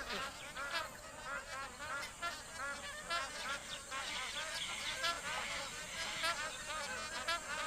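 A dense, continuous chorus of honking magpie geese at a billabong in Kakadu, Australia, during the dry season, many birds calling over one another at a steady, moderate distance.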